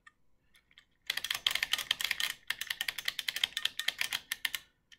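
Rapid bursts of typing on a 40% buckling spring keyboard, each key giving a sharp, springy clack, close and fairly loud, alone after a brief pause, then a run of quick keystrokes with short gaps.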